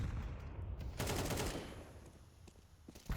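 Bursts of rifle fire in a Counter-Strike 2 competitive match: a dense volley of rapid shots, then scattered single cracks, moderately loud and at mid distance, with no talking.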